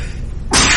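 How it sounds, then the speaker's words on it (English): A single sharp sneeze bursts out in a lecture hall during a math class, loud and close after a stretch of quiet room tone. "I'm amazed that was my first sneeze"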